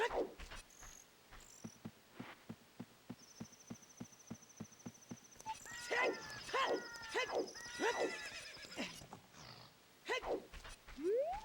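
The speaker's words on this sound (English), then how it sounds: "And then we'll call the horse." Several horse whinnies ring out loudly in the Ocarina of Time game, led in by a steady clip-clop of hooves beneath a faint insect chirp.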